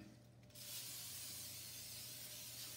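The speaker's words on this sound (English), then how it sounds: "And then you want to give these a little spray." A short hiss of aerosol cooking spray starts after a brief pause and continues steadily, close by in a quiet kitchen.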